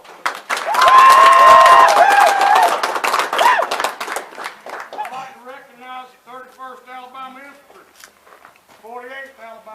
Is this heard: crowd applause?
yes